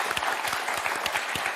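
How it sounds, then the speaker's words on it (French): A television game-show studio audience claps loudly and rapidly, dense rhythmic applause sustained throughout with individual claps audible up close. "ça nous suffit pour vous applaudir"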